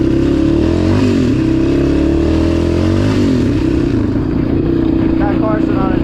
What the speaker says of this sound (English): Got Carson on a dirt bike.